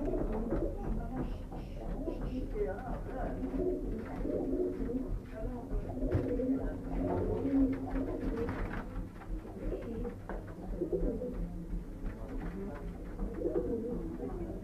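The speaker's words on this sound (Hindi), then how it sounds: "ये हमारे परवाजी कबूतर है जो आपको नजर आ रहे हैं जी" Flying pigeons coo on a rooftop in Sukkur, a steady chorus of soft, low, repeated coos throughout, with someone talking now and then.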